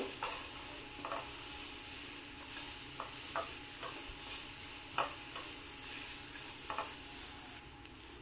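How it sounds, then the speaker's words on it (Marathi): Finely chopped onions sauté in a pan for paneer bhurji, giving a steady, quiet sizzle broken by occasional sharp clinks and scrapes of stirring. "कांदा थोडा परतून घेणार आहे, त्याला मी थोडासा त्याचा रंग बदलेपर्यंत परतवणार आहे।"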